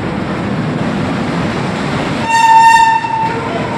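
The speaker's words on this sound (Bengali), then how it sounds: "স্টেশনে কাঞ্চনজঙ্ঘা এক্সপ্রেস চলে এসছে" The Kanchenjunga Express pulls into a railway station on a hot day. Steady loud rumbling of rolling train cars is joined by a long, tonal horn blast for under a second before the rumble carries on.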